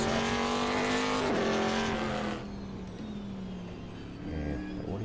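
Race car engine in the video game Automobilista 2, a sustained high-pitched whine that drops as the car shifts and slows, with tire squeal, heard fairly quietly and without talk.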